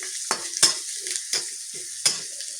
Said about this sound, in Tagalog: Isa yung bawang at sibuyas. Gilupuin natin ng konti.